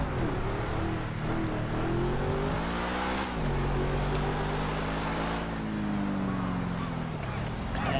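The engine of a Vapid Caracara 4x4 pickup in GTA Online revs and accelerates, pitch climbing and dipping through gear changes in a continuous, fairly loud drone.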